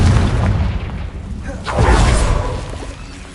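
A Confringo blast spell explodes in Hogwarts Legacy: a booming burst with a whooshing, crackling tail that swells and fades over a low, steady game rumble.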